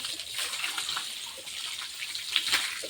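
Water runs steadily from a tap in a continuous, close hiss, with no voices.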